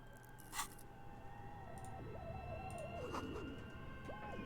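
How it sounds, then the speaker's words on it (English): A faint, wavering bird call, a short warbling chirp, repeats a few times over a low ambient noise bed in the video game Disco Elysium, distant and quiet, with a soft thump early on. "Was that a bird I heard?"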